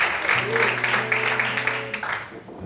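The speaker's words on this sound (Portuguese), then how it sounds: "Quantos podem aplaudir o Senhor bem forte?" A church congregation claps loudly during a worship service, a dense wash of applause over held keyboard notes that fades slightly toward the end.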